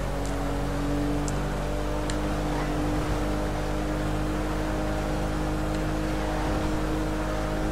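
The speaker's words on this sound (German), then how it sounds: "der Wagen, der rennt noch, der schnurrt noch wie ein altes Kätzchen" Car engine in GTA 5 running steadily with a low sustained hum and harmonic drone, occasional brief revs, continuous and close throughout with no talk.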